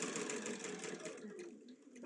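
A sewing machine stitches a quilt block for a LeMoyne Star, running with a steady, continuous whir at moderate volume for about two seconds.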